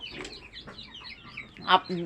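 Local desi chickens on a farm cluck in short, scattered calls at close range, with one sharper, louder squawk near the end and a busy murmur of the flock underneath.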